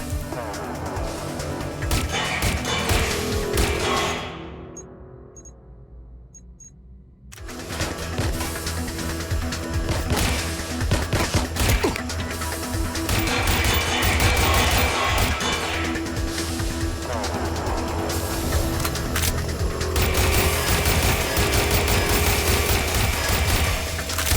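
Heavy gunfire rages in a Watch Dogs Legion boss fight, with loud sustained bursts, crashes and impacts, a brief near-silent gap, then renewed dense shooting through the rest of the fight.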